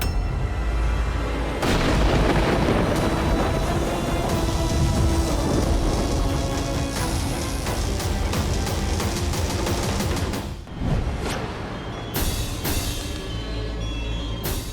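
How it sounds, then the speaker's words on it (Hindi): A dense, continuous barrage of booms, crackling blasts and rapid impacts depicts Ravana's storm of arrows and divine weapon blasts in a Ramayan battle scene, loud and sustained with a sharp break partway through. "अब देखो रावण के बाणों की आंधी"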